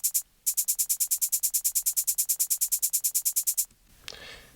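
A simple two-bar hi-hat loop from an FL Studio trap beat, crisp closed hats ticking in a steady fast stream with a short gap at the start, then a brief noisy hiss as it stops.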